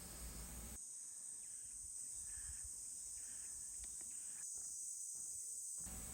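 Cicadas drone steadily along a forest trail beside a wooden deck path, a dense high-pitched buzz that fills the whole stretch with brief pulsing swells, no voices present.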